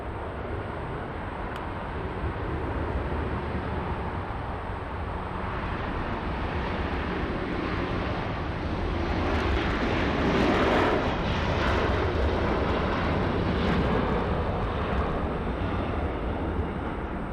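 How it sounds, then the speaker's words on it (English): A Boeing Dreamliner lifts off at Los Angeles, its engines a steady, broad roar that holds loud throughout and swells slightly toward the middle as the jet climbs away. "there goes that Dreamliner"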